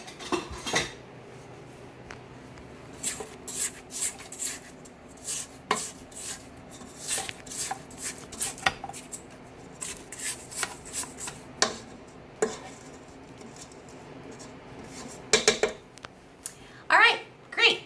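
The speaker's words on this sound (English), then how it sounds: "Now we're going to get our spatula and scrape down the sides" A spatula scrapes and clinks around the sides of a mixing bowl of cake batter for mini pineapple upside-down cakes, a series of irregular close scrapes and taps with quiet pauses between.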